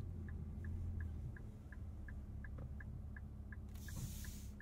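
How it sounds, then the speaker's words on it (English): Steady turn-signal ticking inside a 2023 Infiniti Q50 Red Sport, a dozen evenly spaced soft clicks over a low cabin rumble, faint and regular. "Turn signal sound."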